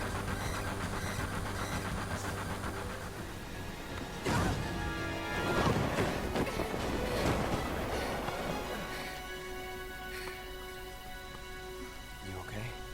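In Final Fantasy VII Remake, a train pulls away with a continuous rumbling drone, broken midway by a burst of crashing, clattering noise that then settles back to a hum, with voices speaking through part of it.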